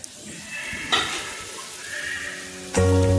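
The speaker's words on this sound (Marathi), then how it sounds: "तिलाही अगदी तेलामध्ये चांगली फ्राय करून घ्यायचं" Turmeric and spice paste frying in hot oil for kanda pohe, a steady close sizzle with a sharp stir or clatter near the start and a louder tonal burst at the end.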